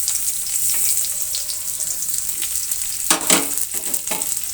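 Chopped onion frying in oil in a wok gives a steady, close hiss, with a few sharper scraping stirs near the end.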